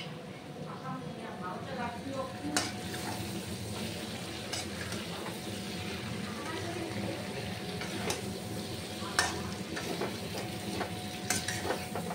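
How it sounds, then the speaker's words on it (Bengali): Spiced curry is stir-fried in a pan with a constant low sizzle, scraping and occasional sharp utensil clinks against the metal, while someone talks over it nearby. "এখন আমি এটাকে কষাচ্ছি"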